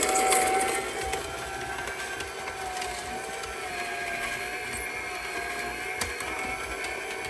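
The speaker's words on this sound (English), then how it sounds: "I juiced 7 celery hearts, which are a bit more tender than outer stalks" An AMZChef slow juicer grinds celery hearts with a steady low mechanical whir and faint crunching, a continuous, fairly quiet motor hum with no voices.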